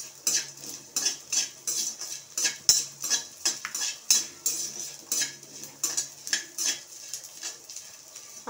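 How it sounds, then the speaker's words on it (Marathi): Edible gum (dink) frying in oil in a pan, a busy run of quick metallic spoon clinks and scrapes against the pan in a steady rhythm over a soft, bubbling sizzle, close up. "आता अशा प्रकारे मी सगळा डिंक तळून घेते।"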